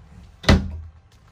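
Closet door in a pull-type travel trailer opening with a single short, close thunk, then quiet room tone.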